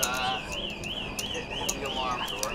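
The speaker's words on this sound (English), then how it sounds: "There it is. That alarm." An alarm in a poker room gives off a repeating wavering electronic tone that rises and falls in a steady cycle, continuous and moderately loud beneath murmuring voices and table chatter.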